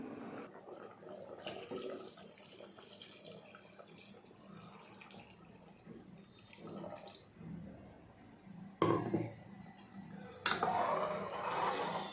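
Water runs and splashes into a pot of ridge gourd sambar in bursts, with pots and utensils clattering nearby in a kitchen.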